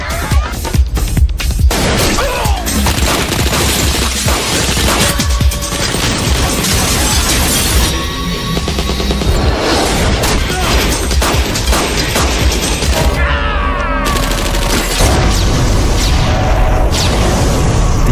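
Dense bursts of gunfire crack out in rapid, irregular volleys from all directions during a sniper shootout, mixed with booms and crashing impacts; loud and continuous throughout, with no speech.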